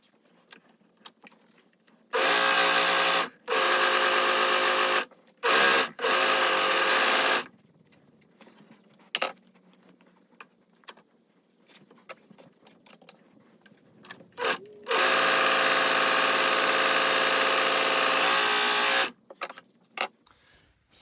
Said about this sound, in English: I'm gonna overlock them separately.